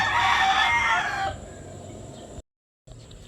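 A rooster crows loudly and nearby beside a netted garden of bottle gourd plants, with a long, strained call that fades after about a second. Quiet background follows, then a brief dropout.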